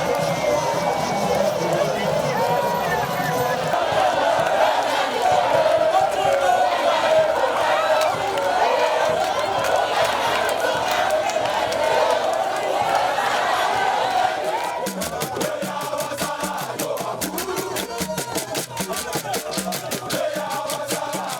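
A large crowd at a presidential campaign rally for candidate Denis Sassou Nguesso in Owando clamours and cheers continuously, a dense loud roar of many voices that shifts into rhythmic chanting or clapping near the end.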